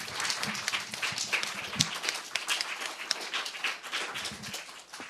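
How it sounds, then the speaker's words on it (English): An audience at a live reading event at Rollins College applauds steadily, the clapping dense and moderately loud throughout, with a few scattered louder claps and no speech. "just give them another round of applause"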